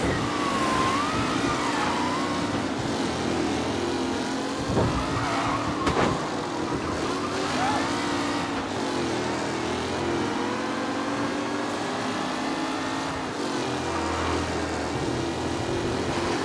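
Race cars roar through a race in Mafia: Definitive Edition, with a steady dense engine drone, rising and falling whines and some tyre noise, loud and continuous throughout.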